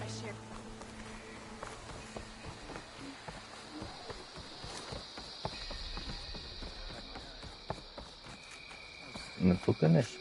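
Donkey hooves in the video game Horizon Forbidden West, a run of light irregular clip-clop steps over a buzzing insect-like ambience, with a voice speaking near the end.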